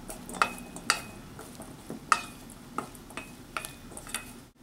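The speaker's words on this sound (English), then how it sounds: "Then continue to stir." Mango salsa with red chili pepper being stirred in a mixing bowl, with a spoon clinking and scraping against the bowl in a series of sharp ringing taps over a soft, moist shuffle.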